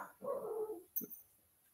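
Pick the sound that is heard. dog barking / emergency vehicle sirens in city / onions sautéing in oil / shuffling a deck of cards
dog barking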